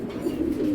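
A large, light-coloured racing pigeon gives a single short, low coo, close and on its own.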